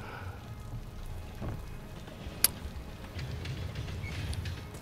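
Rain and stormy weather outside in the video game Call of Duty: Vanguard, a steady soft patter of rain with low rumbling, one sharp click midway, and no talking.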